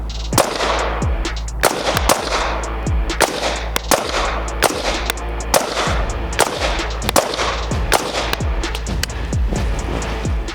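Sig Sauer rifles fire at a target in freezing outdoor conditions, a rapid run of sharp, loud cracks repeating close together over a faint steady low rumble.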